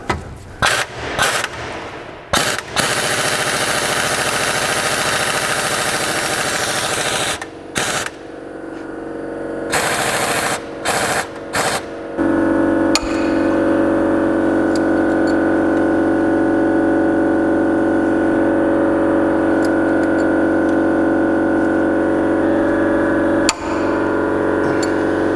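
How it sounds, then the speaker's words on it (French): Pneumatic impact wrench hammering off the wheel nuts on a Renault Mégane 3, loud rattling bursts in short stops and starts at first, then one long continuous run, close up. "J'ai tourné un peu la roue pour pouvoir passer la déboulonneuse."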